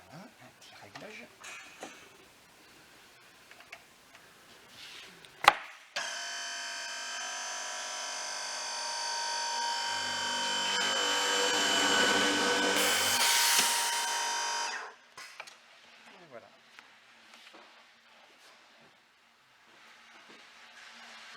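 A woodworking machine in a cabinetmaker's workshop bores a hole in wood, giving one loud, sustained whirring and grinding burst of about nine seconds that rises before stopping. Knocks come before it, and speech comes before and after.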